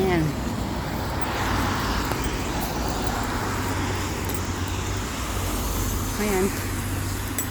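Busy roadside traffic with cars and buses passing, a steady broadband rumble of engines and tyres throughout, fairly close, with occasional brief voices in the background.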